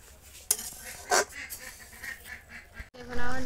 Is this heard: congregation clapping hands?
no